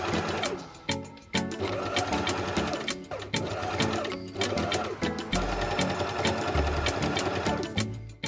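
A Janome AirThread 2000D overlock machine runs steadily as it sews fabric with the lower knife disengaged, a loud, continuous mechanical whir with rapid stitching rhythm and brief pauses between bursts, with no voices.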